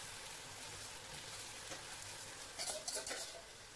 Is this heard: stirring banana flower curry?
yes